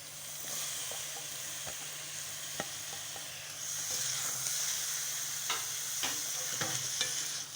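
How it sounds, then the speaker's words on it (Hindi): Tomatoes and capsicum fry in a roasted masala for mutton keema, giving a steady close sizzle with repeated clinks and scrapes of a stirring spoon, with no talk. "अच्छे तरीके से फ्राई करेंगे 2 से 3 मिनट, टमाटर नरम हो जाएं।"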